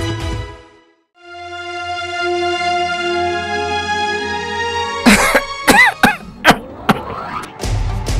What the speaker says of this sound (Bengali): কি হলো আব্বা, কি হলো? তুমি কাশছো কেন?